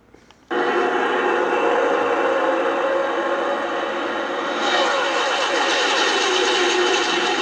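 NASCAR stock cars at the Daytona 500 (44th running) come past in a sudden loud, sustained roar of engines that swells in and holds steady, drowning everything else.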